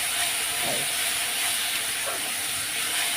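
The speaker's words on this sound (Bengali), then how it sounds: "এবার মশলাটা কষাবো" Masala frying in a pan, a loud steady sizzle and hiss with occasional scraping stirs.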